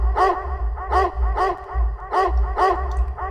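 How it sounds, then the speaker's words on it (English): A sampled dog bark repeated in a Ugandan-style music loop, five or six evenly spaced barks over a deep, steady bass pulse. "I added this dog bark, so I just kept on playing it"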